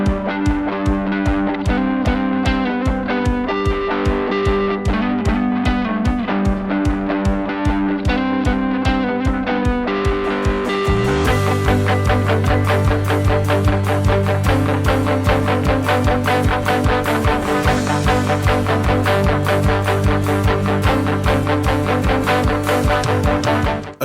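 An electric guitar runs through a budget worship pedalboard on a Pedaltrain Nano tray with distortion, phaser and delay, playing steady repeated picked notes before swelling into a thicker, driven, sustained section that carries on loud to the end.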